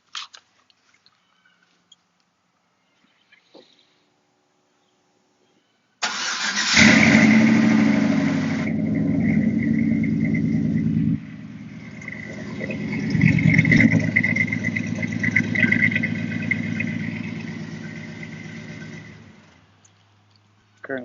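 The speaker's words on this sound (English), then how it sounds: "Let me get back here in the back so y'all can hear it fire up." A truck with a cold air intake and Flowmaster 40 series mufflers fires up by remote start after several seconds of quiet, then settles into a loud, deep, rumbling idle with a brief surge midway before cutting off.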